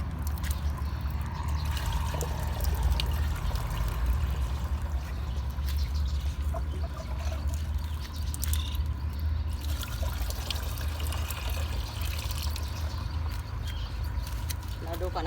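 Water pours steadily into a container, ten litres being filled for a garden pest spray mix, a continuous trickling gush close by that runs unbroken throughout.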